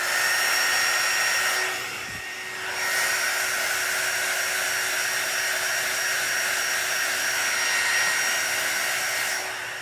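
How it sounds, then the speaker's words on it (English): A heat gun blows across epoxy on a tumbler with a loud, steady whooshing whine, dipping briefly as it pauses or moves away and then resuming at full strength, with no one talking. "am going to grab my heat gun again"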